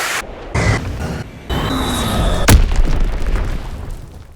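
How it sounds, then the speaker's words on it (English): Predator missile killstreak in a Call of Duty game: several bursts of game audio give way to a sharp, loud impact boom, followed by a rumbling, fading tail. "that kill streak that we're going to be looking at today is the Predator missile"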